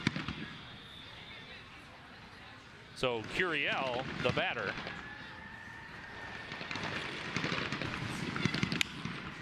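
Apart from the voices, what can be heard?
fireworks going off nearby during baseball game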